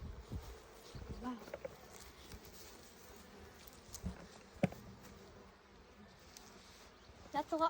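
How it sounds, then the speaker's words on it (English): Honeybees buzz at a hive during a first inspection, a faint, steady drone with scattered close passes and handling knocks, and some quiet talk in the background. "That's a lot more bees"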